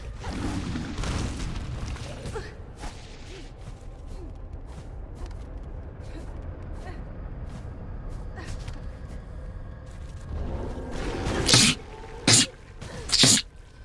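A low rumbling background, then two or three sharp, loud sneezes in quick succession near the end, over gameplay of Silksong.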